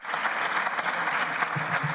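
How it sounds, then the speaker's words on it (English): Conference attendees at a European Works Council gathering give sustained, even applause, a continuous wash of many hands clapping with no speech on top. "Give them a big applause."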